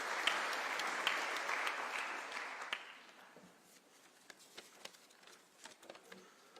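An audience claps to welcome a Japanese ambassador at a university event with Kenya's president, a dense burst of applause that thins after a few seconds into scattered faint claps.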